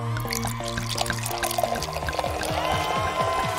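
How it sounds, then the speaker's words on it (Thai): Sweet syrup is poured into a jug in a steady, continuous stream whose pitch climbs as the container fills, heard alone at close range. "เทน้ำหวานลงไป"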